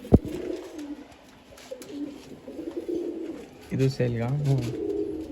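Old-line tournament pigeons coo in low, throaty, repeated bursts close by at a pigeon sale in Bangalore, with someone briefly speaking in between.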